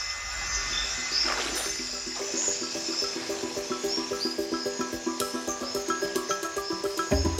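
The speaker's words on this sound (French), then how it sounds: "c'est une grenouille qui est assez rare." A rare frog croaks at a river at night, its rhythmic pulses repeating steadily against dense insect and night ambience, with water splashing nearby.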